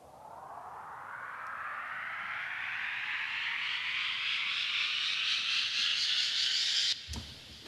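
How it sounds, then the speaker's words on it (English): A steady hiss of looped cricket chirping swells and rises in pitch like a riser, building for about seven seconds before cutting off abruptly. "this one holds a field recording of some crickets making noises that I looped and used as some"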